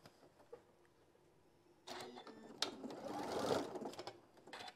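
A Martelli sewing machine stitches fabric pieces, starting after quiet handling noises and running as a steady mechanical whir that rises and holds for a few seconds.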